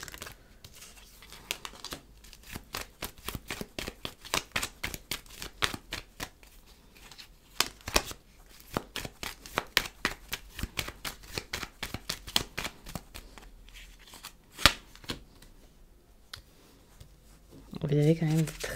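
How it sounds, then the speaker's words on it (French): Tarot cards are shuffled in a long run of quick, crisp riffling flicks up close, with a brief voice near the end. "quand je commence à tirer les cartes"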